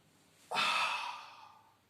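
A single clear exhale during a Pilates push-up and swan dive movement. It starts abruptly and is loud and close, then fades gradually over about a second and a half, with no talking.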